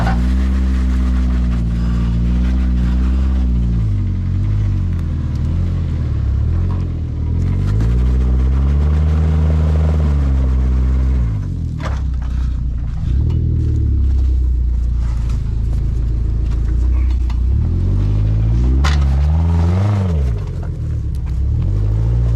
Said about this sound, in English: Hey Frankie, how come we can hear his motor?